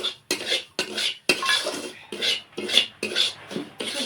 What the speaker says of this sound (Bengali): সুজিটা একটু নেড়ে চেড়ে নেব